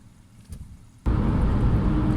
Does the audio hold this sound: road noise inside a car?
yes